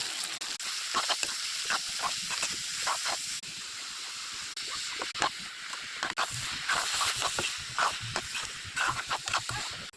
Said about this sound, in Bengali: আলু ভাজা হয়ে গেছে, মটর দিয়ে দেব।